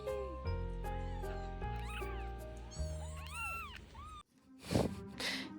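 A month-old kitten gives several high, drawn-out meows over a low steady hum, followed by a short stretch of noisy rustling.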